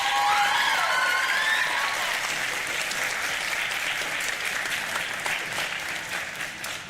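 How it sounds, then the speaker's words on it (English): Parents in the audience at a Lebanon High School spring concert applaud, a dense, steady wash of clapping that slowly fades over several seconds. "Students, give your parents a round of applause."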